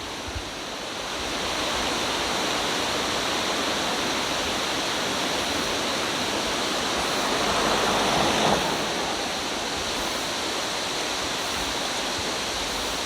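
High water rushes steadily through a swollen valley stream in Gapyeong during summer, a loud, continuous broadband roar with no talk, swelling slightly near the end.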